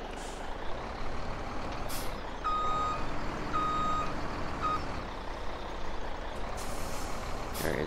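Reversing beeps from a truck in Farming Simulator 17 sound in a steady repeating pattern over a constant engine rumble, with air brake hisses and no talk.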